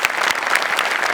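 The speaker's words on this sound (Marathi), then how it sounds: "जोरदार टाळ्या" An audience claps enthusiastically for a Marathi comedy act on stage, a dense, even burst of many hands with no pauses.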